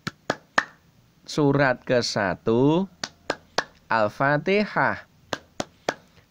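A teacher leads the tepuk Al-Fatihah clapping chant in a first-grade Islamic class: sharp single claps fall in a steady rhythm, alternating with short chanted spoken phrases, close and clear in a quiet room.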